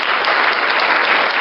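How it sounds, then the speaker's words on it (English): Dense applause from a seated audience at an education event, many hands clapping loudly and evenly for a moment with no speech over it. "Ang ganda ng clap ni Sir Ron."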